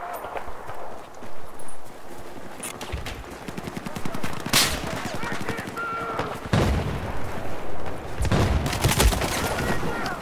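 Rapid bursts of automatic gunfire from the video game Battlefield 4, loud and close, with sharp separate shots and clattering volleys. Running footsteps and game effects fill the gaps between the bursts.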